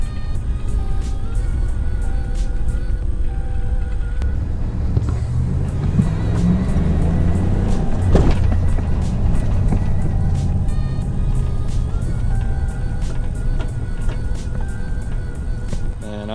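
A 2017 Dodge Ram Rebel 1500 4x4 pickup engine drones steadily while driving, its rumble rising and falling slightly, with some rattling and a few faint high tones over the top.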